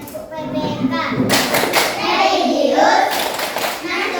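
A primary school class performing the PPK rhythmic clapping chant, a burst of group claps and thumps led by a pupil, mixed with children's voices calling out, loud and close in a classroom.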